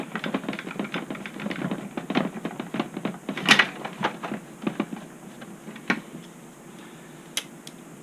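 Screws are taken out of an iRobot Roomba 500/600 series robot vacuum, giving rapid, dense, close clicking and ticking from the driver and plastic housing that thins out toward the end.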